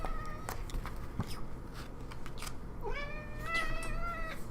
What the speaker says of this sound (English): I made my cat very upset by kicking him off my paper and off my laptop